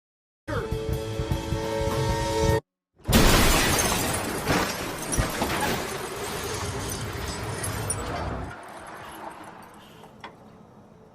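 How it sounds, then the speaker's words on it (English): In the film Whiplash, a bus smashes into a car: after a tonal passage and a sudden silence, a loud crash of crumpling metal and shattering glass erupts, followed by rattling debris that settles into quieter noise. "He gets smashed into by that bus or whatever"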